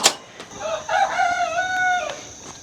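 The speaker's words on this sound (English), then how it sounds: "The roosters are, I guess the last few days, starting to crow steadily." A young rooster crows once nearby, a strained, wavering cock-a-doodle-doo lasting under two seconds, set against quiet farm background with a brief click at the start.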